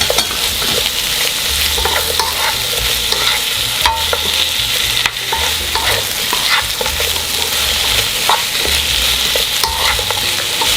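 Zucchini with chili powder is stir-fried in a pan over medium to low heat, giving a loud, continuous sizzle broken by frequent scraping and stirring clatter from a utensil throughout.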